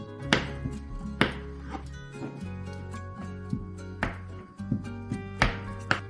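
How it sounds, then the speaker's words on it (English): A knife chops a 400-gram block of soap base into small squares, giving about eight crisp, close thunks on a board at an uneven pace, each a sharp tap with a short ring, over a steady background tone. "What we are going to do is cut it into little pieces, squares"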